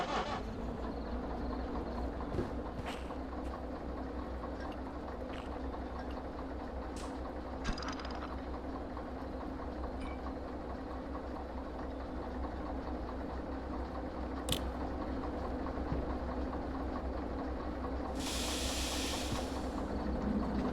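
Train locomotive in the Derail Valley simulator game, starting up and running with a steady rumbling drone, occasional clanks and a brief hiss of released air near the end, continuous and close.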